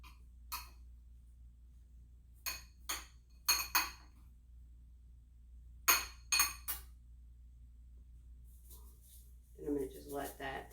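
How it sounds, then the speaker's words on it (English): A frying pan is set back down onto an electric stove's heating element, giving a series of sharp metallic clinks and knocks spaced across a quiet kitchen, with a rustling clatter near the end. "I'm going to put my pan back on the heating element"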